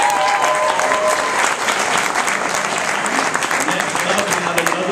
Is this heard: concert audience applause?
yes